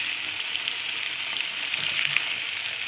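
Masala for gajar methi keema fries in a pan with a steady, even sizzle and crackle, close and moderately loud, with no talking.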